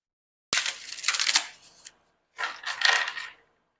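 Tarot cards are shuffled in two quick bursts of crisp riffling and flicking, close and fairly clear, with a short pause between them and no talk.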